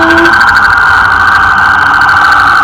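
A loud siren from a passing ambulance or fire truck wails in a steady high tone over a low engine rumble, close and dominant throughout.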